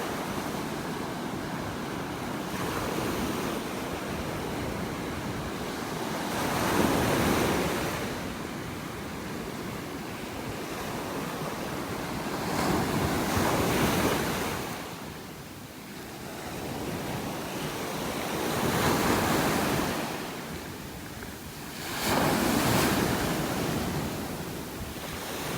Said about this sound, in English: Love the sounds of the waves in the morning.